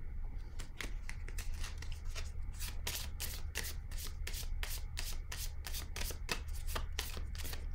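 Tarot cards shuffled and drawn by hand, a quiet, steady run of rapid papery riffles and flicks repeating close to the microphone, with no voices.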